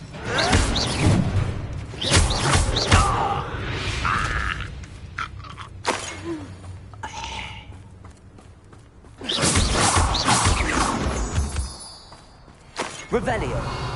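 Bombarda blasting spell in the Hogwarts Legacy video game: shattering bursts and crashes with whooshes and thuds, one heavy blast partway through, mixed with game sounds and voices.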